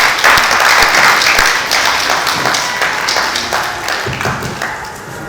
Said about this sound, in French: Vous pouvez applaudir hein, si vous voulez.